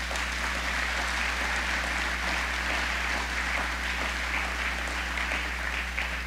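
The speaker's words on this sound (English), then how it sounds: "Would you please give them a great round of applause?" A business community audience at a speech by Ohio Governor John Kasich gives sustained applause, an even wash of clapping over a steady low electrical hum, with no voices over it.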